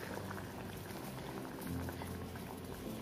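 Sugar syrup bubbles steadily in a pan on the stove while an Indian sweet is cooked in it, a close, continuous boil with no voices.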